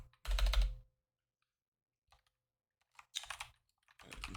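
Short bursts of typing on a computer keyboard while exploring web scraping, a quick run of clattering keys, a pause, then two more brief flurries of keystrokes, close and clear.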